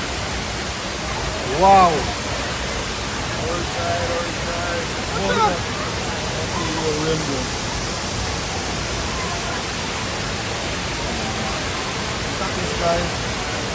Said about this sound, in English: We're above the waterfall.